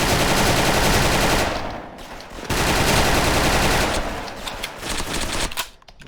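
Rapid automatic gunfire rattles loudly in a shooting video game, dense bursts filling most of the stretch with brief lulls in between, no voices.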